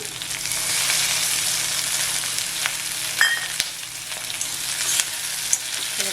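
Whole chillies frying in hot oil for a prawn masala crackle and sizzle loudly and continuously, with sharper pops and spits scattered over the hiss, close up and with no voices.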